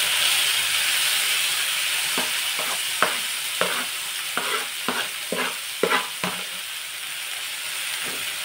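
Chopped dill greens stirred into hot oil with turmeric, a steady background sizzle broken by a run of sharp scraping stir strokes from a spatula in the pan, close and fairly quiet, with no talking.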